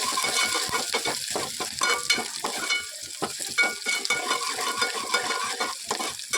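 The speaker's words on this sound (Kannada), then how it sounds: "ಈರುಳ್ಳಿ, ಬೆಳ್ಳುಳ್ಳಿ, ಕರಿಬೇವು ಸ್ವಲ್ಪ ಎಣ್ಣೆ ಒಳಗೆ ಫ್ರೈ ಆಗಬೇಕು." Onion, garlic and curry leaves fry in a little oil, a loud close crackling sizzle with quick rhythmic stirring scrapes throughout, for a Karnataka peanut palya.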